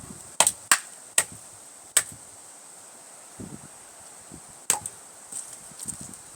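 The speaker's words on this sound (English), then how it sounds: "that noise was the log and not the handle splitting" A log splitting as it is batoned with a big chopping knife: several sharp, close knocks and cracks spaced irregularly, with quieter creaks and rustles between them.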